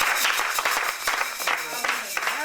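A church congregation at a prayer meeting claps and applauds in praise, the uneven claps rattling out under a voice that keeps talking and calling out across the room.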